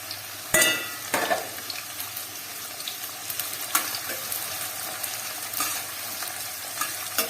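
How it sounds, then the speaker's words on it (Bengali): Onions frying in mustard oil in a kadai until crisp like birista, a steady sizzle with sharp scraping stirs near the start, heard close with no talk. "পেঁয়াজটাকে ভাজবো বলে পেঁয়াজ দিয়ে দিলাম পেঁয়াজগুলো ঠিক যেমন বেরেস্তা হয় ওই টাইপেরই ভাজতে হবে"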